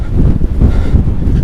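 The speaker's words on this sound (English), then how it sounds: "It's going to be a bit windy up here." Strong wind buffets the microphone in low, thumping gusts, loud and close, with no voices.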